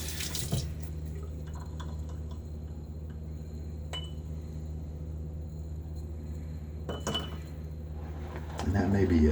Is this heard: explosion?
no